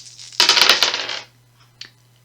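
Several dice for a Shadows of Brimstone board game clatter briefly across a hard surface in one quick rattling burst, followed by a single faint click, with no talk.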